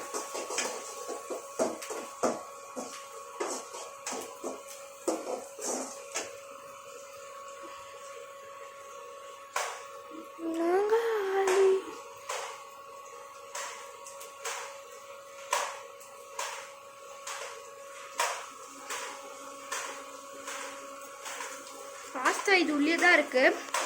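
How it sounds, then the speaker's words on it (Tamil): Pasta with masala being sautéed in a home kitchen pan, with steady scraping stir strokes and soft sizzling throughout, plus clinks of the utensil against the pan and a voice speaking at intervals. "மம்மி இன்னொரு வாட்டி வதக்கிக்கிட்டே இருக்காங்க."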